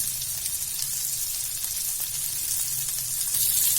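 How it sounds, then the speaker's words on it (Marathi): Prawns fry across a full tawa with a steady, dense sizzle that holds even and fairly loud from start to finish, with no voices over it. "आता आपण पूर्ण तवा भरून आपण टाकलेले आहेत प्रॉन्स"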